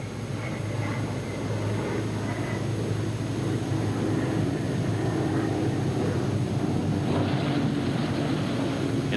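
A 1943 P-47 fighter plane comes in for a three-point landing, its engine a steady, loud drone that holds without a break throughout.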